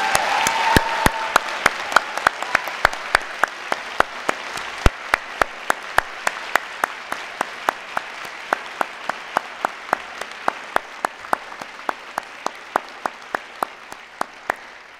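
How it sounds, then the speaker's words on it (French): Audience applause for new doctors at a Faculty of Arts graduation ceremony, a sustained crowd clapping throughout with a steady pattern of sharp, regular clicks over it and a brief voice near the start. "c'est maintenant le temps d'applaudir chaleureusement les nouvelles et les nouveaux docteurs de la"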